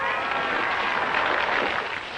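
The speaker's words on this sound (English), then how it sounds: "They're cheering now because of Barrabee won." A crowd cheers and applauds for the winning Barrabee coach after a horse-drawn coach race, a dense continuous roar of many voices and clapping sustained for about two seconds.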